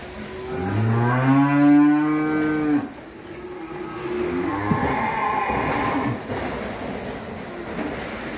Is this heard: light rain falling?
no